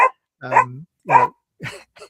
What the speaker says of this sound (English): sorry about that dang dog